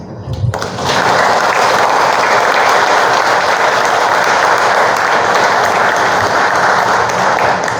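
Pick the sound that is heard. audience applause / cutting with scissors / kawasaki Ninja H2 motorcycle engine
audience applause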